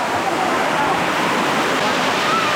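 Waterfall in Meghalaya, India, roaring as a steady, loud, dense wash of falling water that fills the whole stretch with no breaks.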